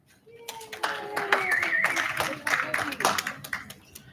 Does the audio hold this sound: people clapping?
yes